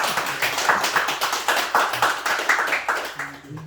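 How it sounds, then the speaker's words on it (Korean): A group claps together at a Korean housewarming worship service in a new house: dense, steady applause lasting several seconds, slightly uneven and tapering toward the end. "다 같이 박수 한번 주겠습니다."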